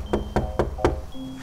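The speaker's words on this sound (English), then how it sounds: "Just need to knock on the door." Four firm knocks land on a door in a steady, evenly spaced rhythm, close and distinct over a faint background hum.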